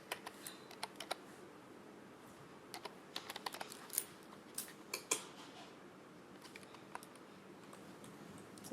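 Keys clatter on a computer keyboard while text is typed into AutoCAD, with quick bursts of clicks separated by short pauses, close and fairly quiet.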